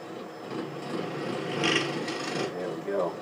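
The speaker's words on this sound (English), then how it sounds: "I'll just come in there with a beading and parting tool." A beading and parting tool cuts into a spinning cherry burl hollow form on a wood lathe, giving a close, rasping scrape that rises and falls in strength as the tool bites, with a faint low hum beneath.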